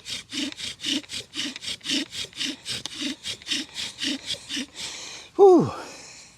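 A bow drill spinning on a pine hearthboard, a close, rhythmic back-and-forth rasp of wood on wood in even strokes, ending with a quick rising vocal gasp.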